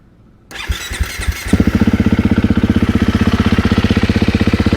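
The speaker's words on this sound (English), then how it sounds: "Now it's on, and we'll start this bike up." A dirt bike engine starting after a wash, cranking briefly and then catching into a loud, rapid, steady putter close to the microphone.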